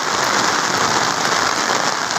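Heavy rain pours down on a home vegetable garden with gourd and bitter melon vines, a loud, dense, unbroken hiss of downpour filling the whole stretch.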